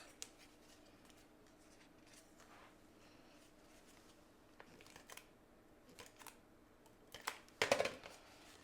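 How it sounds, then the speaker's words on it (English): A tape runner rolls adhesive onto a folded paper card, faint close scratchy clicks and rustling, ending with a brief louder crinkling burst. "we can just add our tape runner right here to close this"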